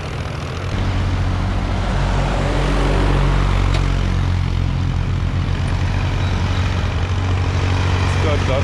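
Heavy trucks loaded with leftover grape pulp roll past on a rural road in southern North Macedonia, a loud, steady engine rumble and road roar that swells and holds for several seconds.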